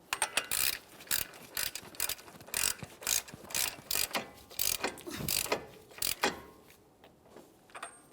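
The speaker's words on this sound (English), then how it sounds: "We can snug this up using a hand tool," Hand ratchet snugging the front axle nut on a 2014-2018 Mazda 3 during a strut and spring replacement, giving a close series of rapid clicking bursts in uneven strokes with no talk.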